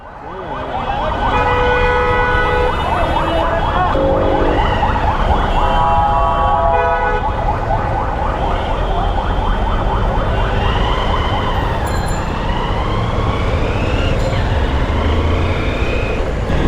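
An ambulance siren wails loudly and continuously close by on a road in Narayanganj, its rising and falling tones sweeping over steady traffic and motorbike noise.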